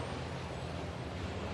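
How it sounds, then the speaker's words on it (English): A racing truck starts up at a race circuit, a broad rumbling engine roar with a hissing air-brake tone, steady and fairly distant, with no voices. "truck starting up behind him"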